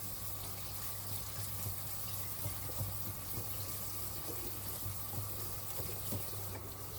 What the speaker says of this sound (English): We're going to run some water over that,